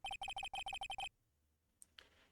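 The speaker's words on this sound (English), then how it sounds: "I heard a phone ring just now." A phone ringtone in the video game Phoenix Wright: Ace Attorney, a quick bright electronic ring of about nine rapid pulses in two bursts, followed by a couple of faint clicks.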